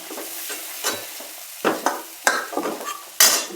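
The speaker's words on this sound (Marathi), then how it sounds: "मसाला छान परतून घ्यायचा आपल्याला." Masala of homemade red chilli powder, garam masala and bay leaf being stirred and fried in a pan, a soft sizzle under irregular scraping strokes and clinks of the spoon against the pan, close by with no speech.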